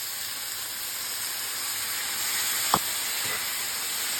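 Water poured into a hot pan of cooking greens, giving a steady broad steaming hiss with a sharp burst of crackle partway through, no voices present.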